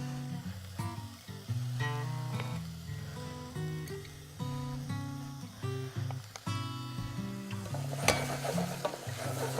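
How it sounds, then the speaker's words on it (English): Peppers and onions sweat in a hot pan with a soft, continuous sizzle, broken by occasional stirring scrapes and light clinks; the sound is steady and fairly quiet, with no voices over it. "you want to bring your peppers and onions down to a sweat"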